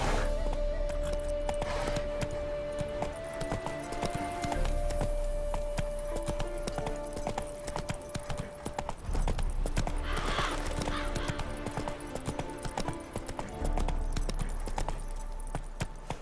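Horse galloping in The Witcher 3 video game, a steady rhythmic clip-clop of hooves continuing throughout over game ambience and music, with a brief whinny.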